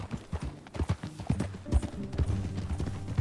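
Horse hooves clip-clop in the video game Red Dead Redemption 2, an uneven run of soft thuds at a walking pace under low, murmuring game voices that talk throughout.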